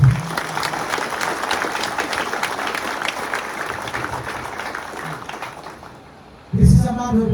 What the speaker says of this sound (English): Shall we clap our hands for...